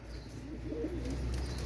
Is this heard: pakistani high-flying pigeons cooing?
yes